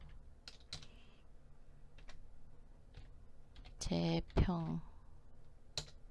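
Fingers tap a computer keyboard in scattered, quiet clicks, with a couple of firmer presses on the enter key, while a person speaks over part of it.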